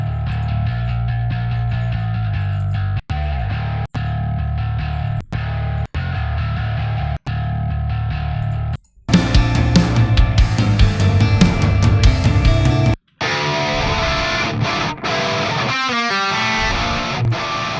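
Distorted bass guitar tone playing in a metal mix, chugging and sustained with several abrupt stops, then joined by crunchy overdriven guitars and drums in a denser, loud section.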